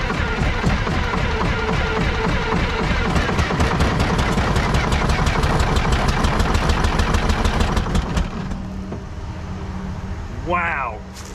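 A Detroit 6V53 diesel engine in a Chevy C70 truck that sat unused for 30 years cranks over rhythmically and loudly, then catches and runs before settling into a rough idle, close up with a voice speaking near the end.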